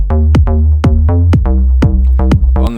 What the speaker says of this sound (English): so this is the kick and the bass. Together it sounds like this.